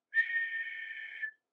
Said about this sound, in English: soon as they heard the guard's whistle